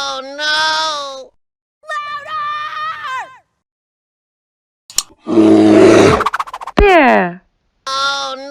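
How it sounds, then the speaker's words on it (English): A cartoon bear lets out a loud, rough roar in the middle, set among several bursts of high, wavering voice-like cries and whoops separated by silence. "Bear."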